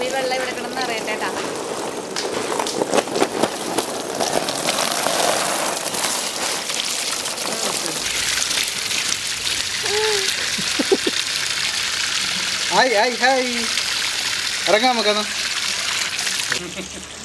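A motor-driven pump sends a steady gush of water splashing into a small home pool, loud and close, while a person calls out excitedly over the flow.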